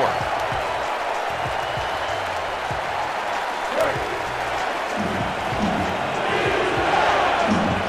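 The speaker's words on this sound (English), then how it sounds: "crowd on their feet" A stadium crowd roars and cheers steadily at a football game at Federal Financial Field, a dense wash of voices holding at full volume throughout as fans stand near the two-minute warning.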